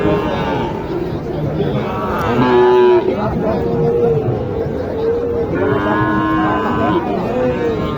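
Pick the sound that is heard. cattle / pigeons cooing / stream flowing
cattle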